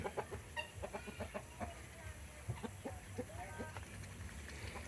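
Heritage chickens cluck repeatedly at a farm with geese and turkeys, short clucks and calls coming in an uneven rhythm over steady outdoor background noise, fairly close and moderately loud, with no speech over them.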